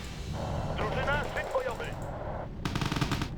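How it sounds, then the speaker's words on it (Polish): Autocannon fire from armored vehicles in the Cold War strategy game Wargame: Red Dragon, heard as rapid mechanical bursts over rumbling battle noise, with a voice speaking over the first half. "Ale są to armatki automatyczne"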